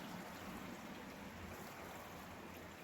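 Water flows steadily in a stream along a waterway near blackberry brambles, a dense, even rushing wash that carries on unchanged with no voices.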